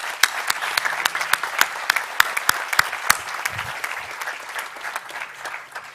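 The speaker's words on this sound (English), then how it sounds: "give them a round of applause" Audience at a Class of 2020 commencement ceremony applauding the organizing committee, with scattered close, sharp claps over a softer wash of clapping that thins out toward the end.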